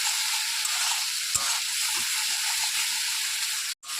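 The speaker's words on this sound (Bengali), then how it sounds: "খুব ভালো করে মশলাটাকে কষিয়ে নেব।" Spice paste for a Bengali bata fish mustard curry sizzles steadily in a pan, a continuous close bright hiss with a couple of soft stirring knocks and a brief break near the end.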